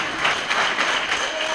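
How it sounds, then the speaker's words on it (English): Crowd applause at a university guild swearing-in and handover ceremony as the incoming Guild President walks forward, steady dense clapping filling the room throughout, close and fairly loud. "A round of applause as the incoming Guild President comes up front."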